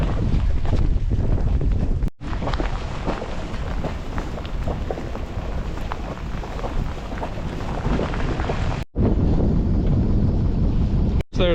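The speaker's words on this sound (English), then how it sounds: "it's pretty fun sailing right now" A sailboat under way on open water between Sydney and Victoria in the San Juans during fall, with steady loud wind buffeting and rushing water throughout, dipping briefly twice.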